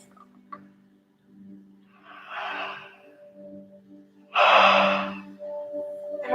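A big yawn comes as a drawn-out breathy inhale, then a louder open-mouthed exhale rising to a peak, close and soft over a faint steady hum, with no talking.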